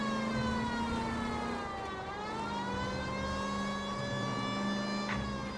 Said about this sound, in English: We're using the siren.